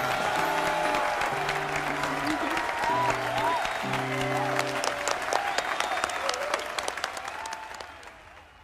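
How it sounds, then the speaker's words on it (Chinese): A studio audience on a Chinese television show applauds steadily and loudly as a guest is welcomed, with music playing underneath before the clapping tapers off at the end. "掌声，有请我们本期的美女嘉宾，著名超模伊娃小姐闪亮登场。"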